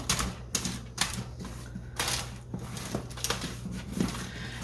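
Seasoned potatoes are tossed with a rubber spatula in a foil-lined roasting pan, giving close, irregular scraping and crinkling sounds with short bursts and pauses, heard alone without talk.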